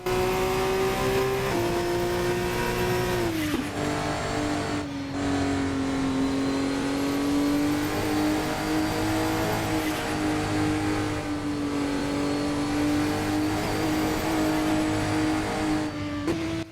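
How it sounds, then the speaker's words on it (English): An F2 race car engine in a Formula 1 video game revving at a high, steady pitch, dipping briefly through a few gear shifts early on before holding a sustained, slightly dull whine, with no talk over it. "you can kind of get that from how this car sounds, where it sounds just a little bit dulled out, a little bit almost drowsy"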